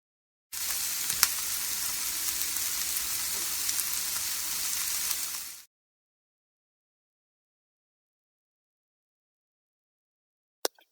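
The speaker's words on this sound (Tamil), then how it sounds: "இப்போ நறுக்கி வச்சிருக்க தக்காளியை ஆட் பண்ணி நல்லா சாஃப்ட் ஆகிற வரைக்கும் வதக்கிக்குங்க" Chopped tomatoes sizzle steadily in a hot pan for about five seconds, then silence with a brief faint tap near the end.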